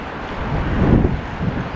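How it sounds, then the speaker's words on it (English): A brief, loud roar of wind rumbling against the microphone on Blackpool Promenade the day after Storm Isha, swelling slightly midway, with no talking. "it is really windy"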